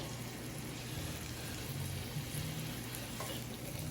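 Already-cooked shrimp tossed in sizzling garlic butter, a steady dense frying hiss with soft stirring movement throughout and no talking.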